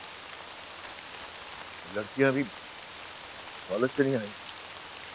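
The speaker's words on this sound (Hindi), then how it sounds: "बहुत तेज बारिश हो रही है" Heavy rain pours as a steady hiss throughout, with someone speaking over it in two short bursts.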